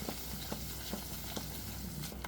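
A spoon works through an onion mixture frying in oil with asafoetida, a steady close sizzle punctuated by regular soft scraping strokes.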